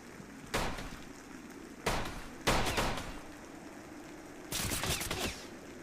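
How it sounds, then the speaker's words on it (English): Gunfire from a zombie in a bunker-building survival game: three or four separate bursts of shots, moderately loud against a quiet background, with short rattling tails. "Another zombie somewhere shooting me."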